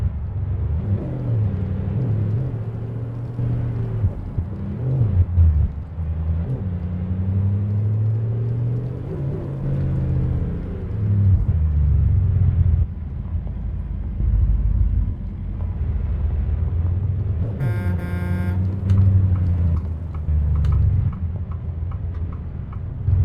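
Cab-interior engine drone of a Jon Ruda Lord G-350 pickup truck in American Truck Simulator, a steady low rumble whose pitch rises and falls with throttle, plus a brief ticking burst near the end.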